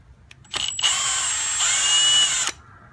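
A socket wrench works a 10 mm battery terminal bolt on a Ford Taurus, a steady two-second run of dense ratcheting clicks, close and loud, starting and stopping abruptly.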